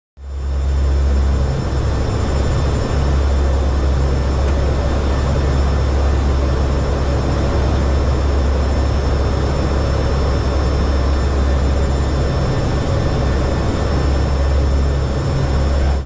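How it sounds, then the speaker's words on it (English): NOAA and U.S. Air Force hurricane-hunter aircraft flying inside the eye of Hurricane Erin, a loud, steady, unbroken engine drone with a deep low rumble filling the whole stretch, no voices. "That's an aircraft flown by NOAA and the U.S. Air Force"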